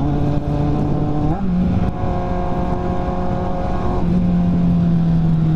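Kawasaki Z750 motorcycle with a straight-pipe exhaust out on the road, a loud, raw engine drone close by that shifts pitch as it changes speed, without any talking.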